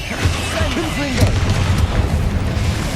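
A Confringo spell explosion in the video game Hogwarts Legacy, a deep boom rumbling under battle noise and a spoken voice, with a few sharper bursts following close behind.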